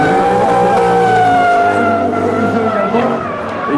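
A drift taxi at a drift show at Lux Expo 2013 skids through a slide, its tires squealing loudly and continuously for a few seconds with engine roar underneath.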